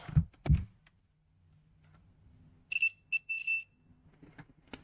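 A multimeter in continuity mode gives a few short, sharp beeps while solder joints on a small keyboard board are probed, heard close and clear in a quiet room after a couple of handling knocks.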